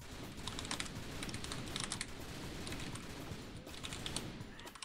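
Rapid bursts of clicky typing on a computer keyboard while playing The Typing of the Dead: Overkill, in quick clattering flurries over a low background of game noise, fairly faint, with no talk.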